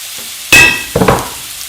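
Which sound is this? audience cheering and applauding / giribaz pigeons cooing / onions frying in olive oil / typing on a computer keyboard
onions frying in olive oil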